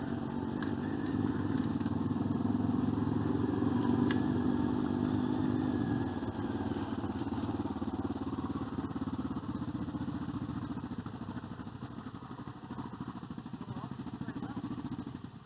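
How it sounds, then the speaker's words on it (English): A convoy of adventure motorcycles, including a Tenere 700, DR650, Himalayan and Tiger 800XC, rumbles along rough tracks, giving a steady mid-distance engine drone that fades slightly toward the end. "What a convoy of bikes though, eh?"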